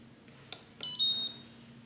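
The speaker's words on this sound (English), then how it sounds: "after 3 cycles, it's going to give you an alarm and it's going to get reset automatically" Automatic tape dispenser (ZCUT-9) gives a short electronic alarm after finishing its cycles, a clean steady high beep tone lasting under half a second, close and clear over a low machine hum.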